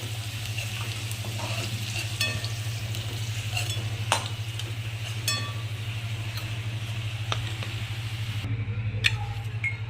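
Corn sizzles steadily in oil over a constant low hum, punctuated by occasional sharp clinks of a utensil stirring in the pan; no talking.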